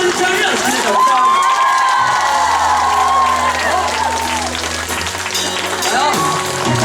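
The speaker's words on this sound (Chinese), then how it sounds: "加热情的掌声" A concert crowd at a charity music event screams, whoops and applauds loudly and continuously, with a host's voice calling out over the cheering.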